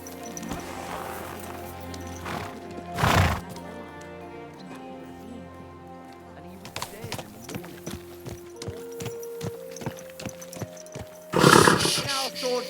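A horse in the video game Kingdom Come: Deliverance II whinnies and snorts in two loud bursts over a steady musical background with sustained tones.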